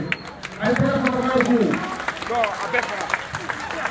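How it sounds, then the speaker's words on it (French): Rally crowd claps and cheers in a burst, with shouted voices and chanting mixed through the noise, loud and close, tapering slightly toward the end. "Applaudissez."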